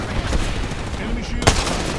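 Gunfire in a battle royale video game crackles in quick bursts, with one sharp loud shot standing out over dense continuous game noise.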